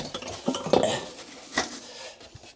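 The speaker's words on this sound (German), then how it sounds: "Da unten habe ich meine Töpfe." Cookware being handled in a camper van kitchen: a few close clanks and knocks of pots and an old enamel pan being moved around, in short scattered bursts with quiet gaps between.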